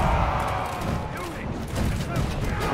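Volley of gunfire in the video game Conqueror's Blade, a dense rattle of overlapping shots and booms with a voice talking over the noise.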